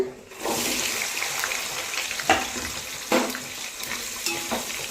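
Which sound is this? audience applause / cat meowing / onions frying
onions frying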